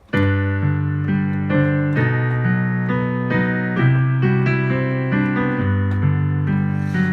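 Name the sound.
piano played with both hands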